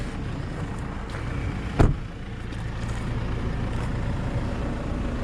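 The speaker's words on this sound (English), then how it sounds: "This might just be the warning truck." A big warning truck on an Australian highway passes with a broad, steady road rumble, and a brief louder whoosh comes around the midpoint.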